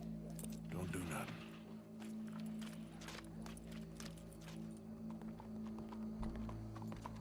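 Horse hooves clip-clop in Red Dead Redemption 2, a steady rhythmic patter running under continuous game voices and background music.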